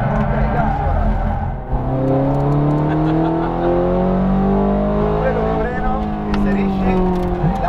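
Ferrari F430 Scuderia at speed on a racetrack, its engine loud and close throughout with rising and falling pitch as it accelerates, lifts and accelerates again, while a voice talks over it.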